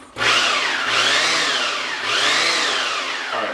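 A food processor whirs loudly as it blends walnut pesto, a continuous motor drone that rises and falls in two long waves with a brief dip between, close up and with no talking.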